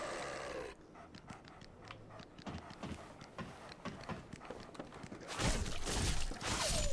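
A video game dog makes short panting, whimpering and growling sounds in a quick irregular series, with a louder burst of noise near the end; no talk over it.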